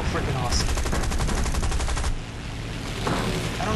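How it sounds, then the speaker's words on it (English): Rapid gunfire in the War Thunder video game as a fighter plane comes under attack, a dense, loud burst of automatic shots for about two seconds over steady engine drone, then resuming faintly. "I'm being shot at."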